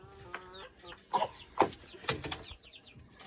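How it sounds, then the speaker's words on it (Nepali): Chickens cluck and squawk nearby in short, irregular bursts, with a few sharper cackles standing out. "ठुली कुखुरा खेदा है"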